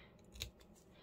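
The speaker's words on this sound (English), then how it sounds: "So let me get my little scissors." A single quick snip of small scissors cutting paper while decorating a CD envelope. The snip is short, soft and close, in an otherwise quiet room.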